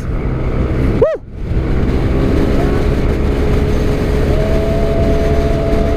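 A Yamaha NMAX Turbo scooter carrying a heavy passenger load of about 175–200 kg accelerates hard, its engine droning steadily and loudly after a brief swooping whine near the start, with no talk.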